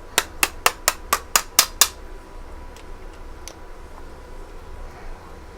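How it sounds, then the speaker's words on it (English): A piston is tapped down into a cylinder of a VW engine with the ring clamp in place, eight quick, sharp, evenly spaced taps up close, then faint workshop quiet with a couple of light knocks. "Giving it a little tap."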